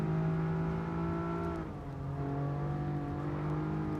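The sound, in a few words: race car engine in a racing video game at Mount Panorama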